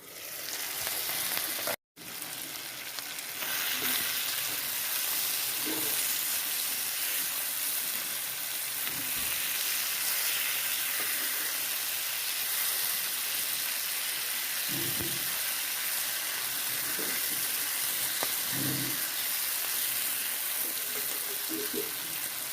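Food fries in a covered pan, a constant broad hissing sizzle that starts abruptly after a brief pause and continues evenly with a few soft bubbling pops, close and without speech.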